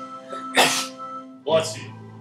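A voice imitates a zombie sneeze from the RPG Maker game Survival: two sharp, bursting sneeze-like blasts about a second apart, loud and close, each trailing into a breathy tail.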